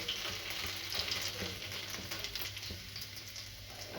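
Chopped garlic, mustard seeds, cumin and hing frying in oil for chori ka shaak, a steady close sizzle with faint crackles and occasional stirring taps, no voices.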